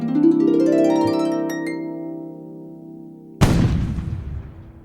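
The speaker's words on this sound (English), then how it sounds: "Whoa, I heard the cannon." A sustained tonal ring fades out, then a single loud cannon shot booms and trails off into a rumbling decay.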